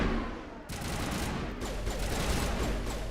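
Dense gunfire in the video game Mass Effect Legendary Edition, loud sustained volleys of shots that cut in abruptly and keep rattling on without a break, with no talk.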